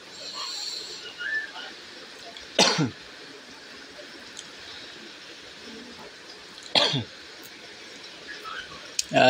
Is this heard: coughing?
yes